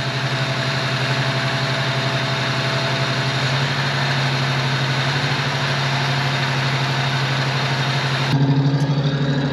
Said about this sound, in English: Now you can hear we are idled a little high because we have all the linkages properly working